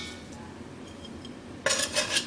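Cooked bacon is lifted out of a pot with a utensil, giving a quiet stretch of faint kitchen noise and then a sudden burst of close metallic scraping and clatter near the end.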